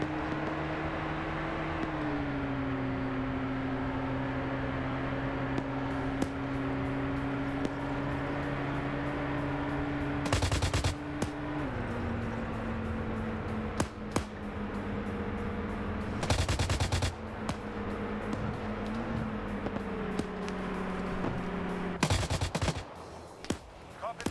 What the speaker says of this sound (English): I hear the ZU-23 now engaging